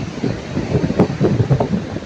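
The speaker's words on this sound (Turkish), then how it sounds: "dalgaların sesini rahatsız ettiğini düşünerek" Sea waves rolling onto a beach at Davutlar on the Turkish coast in October, a steady loud wash of surf mixed with heavy wind buffeting the microphone, no voices.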